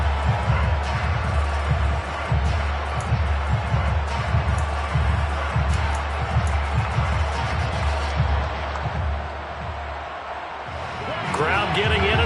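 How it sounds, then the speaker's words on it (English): A stadium crowd at an NFL game between the Bills and the Rams roars and cheers steadily in the distance beneath a broadcast commentator's talk. "Crowd getting in it a bit already."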